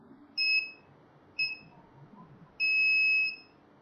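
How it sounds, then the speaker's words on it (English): An IR-sensor anti-theft alarm buzzer sounds three electronic beeps, two short ones followed by a longer held beep, shrill and close over a faint background hiss. "if any obstacles come in front of it, the buzzer will be beep"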